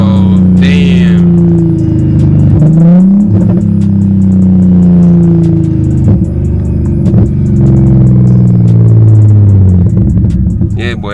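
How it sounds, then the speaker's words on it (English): BMW M340i engine loud and close, rising and falling through revs with a distinct downshift blip and rumble, continuous throughout while people talk over it. "listen to that downshift"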